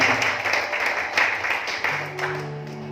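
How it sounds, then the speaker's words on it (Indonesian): A church congregation claps and cheers in a steady burst of applause with rhythmic pulses, moderately loud, while a sustained organ-like tone enters near the end. "Berikan sorak-sorai yang paling meriah bagi Tuhan."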